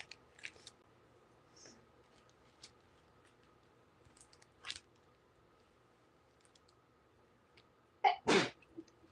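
A single sneeze bursts out loudly near the end, after a quiet stretch of scattered small clicks and taps.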